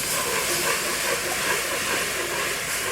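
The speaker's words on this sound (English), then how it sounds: "I'm going to go ahead and whisk in 2 cups of milk" A broad, steady hiss and bubbling rush rises as two cups of milk are whisked into a hot cooked flour roux for cream of broccoli soup, continuous and loud throughout.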